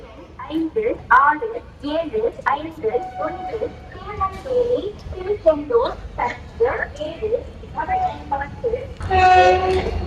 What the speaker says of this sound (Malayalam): കറക്റ്റ് 7:05 തന്നെ നമ്മുടെ കന്യാകുമാരി പാസഞ്ചർ തിരുനെൽവേലിയിൽ നിന്ന് ഡിപ്പാർട്ടായിരിക്കുകയാണ്